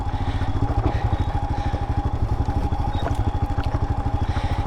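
A 2022 Royal Enfield Himalayan motorcycle held in first gear on an off-road trail, its single-cylinder engine thumping in a fast, steady pulse, loud and close with faint rattles over the rough ground.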